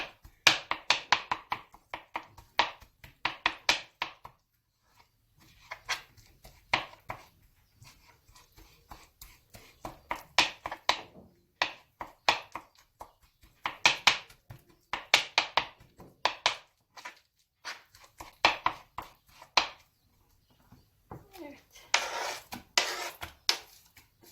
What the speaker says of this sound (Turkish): patlıcanımı, biberimi doğradım